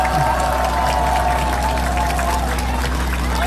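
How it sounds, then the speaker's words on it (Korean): A crowd at an outdoor presidential campaign rally in Cheonan applauds in a dense, continuous wash of clapping, with an amplified voice faintly audible underneath. "박수 크게 한번 보내주세요"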